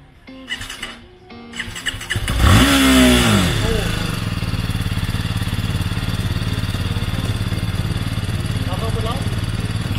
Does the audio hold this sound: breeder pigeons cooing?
no